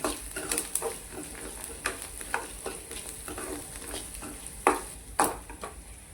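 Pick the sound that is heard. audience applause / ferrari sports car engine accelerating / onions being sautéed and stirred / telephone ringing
onions being sautéed and stirred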